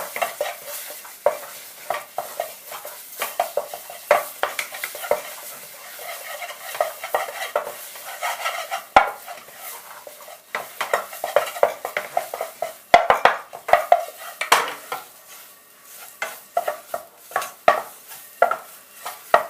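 Brown roux and curry paste stir-fried together in a pan over low heat, a soft hiss broken by frequent irregular scrapes and taps of a utensil against the pan, close and alone.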